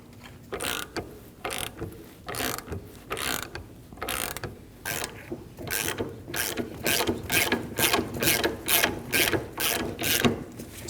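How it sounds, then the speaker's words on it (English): A ratchet snugs the ball joint nut on a Volkswagen Passat steering knuckle, making rapid rhythmic clicking bursts in repeated strokes, close and loud, with no talk. "Snug the nut down."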